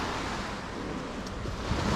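Ocean surf washes steadily onto a deserted beach in Lombok, Indonesia, a constant broad roar of breaking waves with some wind buffeting the microphone and no voices.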